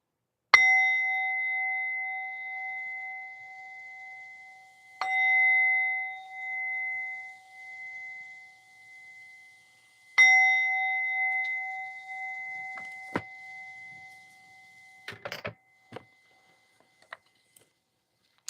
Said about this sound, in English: I'm going to ring the bell, so if it, you may want to lower your volume if you have ear sensitivity.